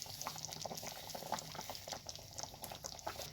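Vidarbha-style kadhi gole, gram-flour dumplings in a garlic-tempered yogurt curry, simmers and boils in a pot, with a steady close stream of small bubbling pops and plops.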